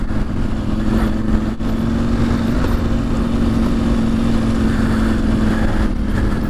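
A KTM 790 Adventure motorcycle ridden along a reservoir trail, its engine droning steadily and loudly with a constant pitch, mixed with wind rush, close to the microphone throughout.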